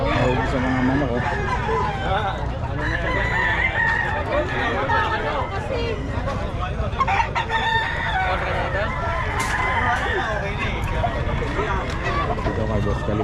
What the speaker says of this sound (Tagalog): Sa mga manok, oh.